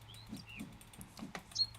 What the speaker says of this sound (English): God, these bird calls are so loud.